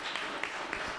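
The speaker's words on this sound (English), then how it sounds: "Let's give them a big round of applause again." Applause from attendees at a city council meeting, a steady wash of many hands clapping at moderate, slightly distant level, with no talk over it.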